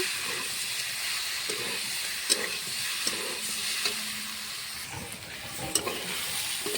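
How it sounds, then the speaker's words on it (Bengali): Vegetables with potato and greens stalks cooked down with ground ginger, cumin and chili paste: a steady, moderate sizzle under repeated scraping stirs of a spatula against the pan, close by, with no one speaking. "আদা, জিরে, লঙ্কা বাটা, ভালো করে সবজির সঙ্গে এখন কষিয়ে নেব"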